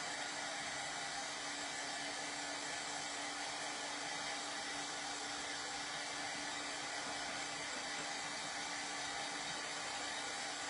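A dryer blows a constant, even whoosh of air across a box frame, a steady broadband roar that never varies in pitch or level from start to finish, close by with nobody speaking.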